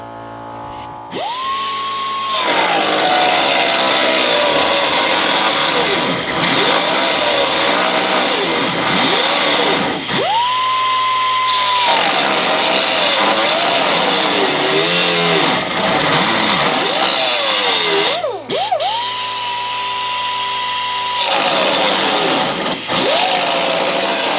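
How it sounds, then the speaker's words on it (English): An old pneumatic air tool runs off a small, underpowered air compressor in three loud bursts, each starting with a high whine that sags and wavers as pressure drops, with a steady compressor drone underneath and no talk. "Our air compressor ain't big enough."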